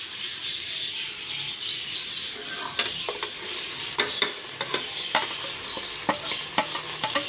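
Masala of tomatoes and spices frying with meat in a cooker, a broad, steady hiss with repeated sharp taps and scrapes of a spoon growing more frequent toward the end, without speech.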